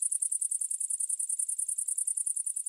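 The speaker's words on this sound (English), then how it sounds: "Grasshopper." A grasshopper chirping: a rapid, regular series of thin, high-pitched pulses, about ten per second, steady and moderately loud throughout with no other sound.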